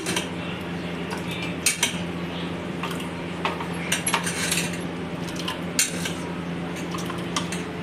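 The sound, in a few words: spoons scooping mango pulp into glasses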